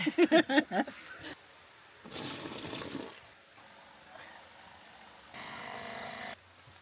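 Water runs into a roughly five-gallon tank through a filtration system, heard as a few sharp clanks at the start and then two separate bursts of steady rushing flow. No voices.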